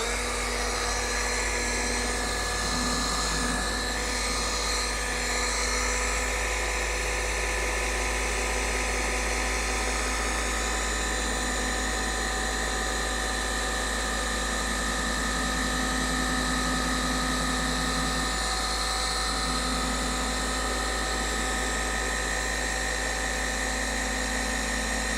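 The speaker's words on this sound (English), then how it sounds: "This is the Flex XCE 8 EC polisher." A Flex XCE 8 EC forced-rotation polisher running steadily with a foam pad and finishing polish on black paint, a continuous whining machine drone with a low hum, close and fairly loud, with no talk.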